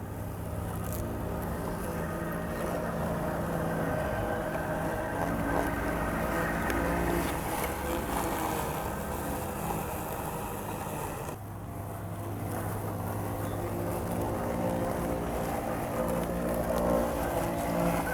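A robot lawn mower that has been in use for a year runs across grass with a steady, droning motor hum that dips briefly midway.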